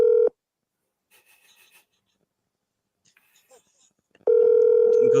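A telephone line gives a steady dial tone that cuts off, followed by quiet faint shuffling and clicks, then the tone returns loud and continuous at the end.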